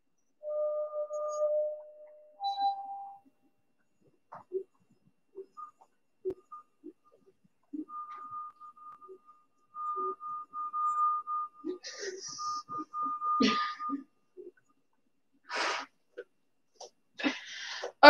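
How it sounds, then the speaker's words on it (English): Water-filled drinking glasses sounded for an at-home science demonstration, giving sustained pure ringing tones at two or three pitches, then several brighter clinks and taps near the end, fairly quiet with gaps of near silence. "depending on the size and length of the glass, you will get a different sound"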